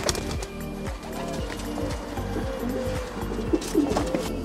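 Racing pigeons in a breeder's loft coo softly amid a dense rhythmic flutter and shuffling, with repeated low murmuring calls close by and a few brief chirps.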